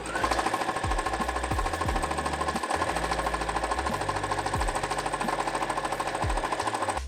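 Sewing machine stitching a scrap-fabric quilted pillow back, a fast steady rapid-fire clatter of the needle running continuously, loud and close, with no talking.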